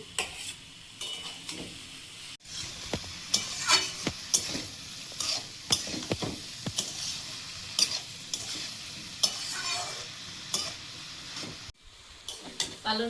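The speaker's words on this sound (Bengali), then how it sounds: "কড়াই দিয়ে ভালো করে ঘেঁটে মাখিয়ে নেব" Vegetables are stirred and mixed in a wok at an outdoor picnic cook-up, with soft sizzling and repeated scraping strokes of a utensil, close and fairly quiet, with a brief pause midway.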